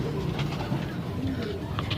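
A young pigeon and its parent cooing close by in a loft, soft low repeated coos over a steady background murmur.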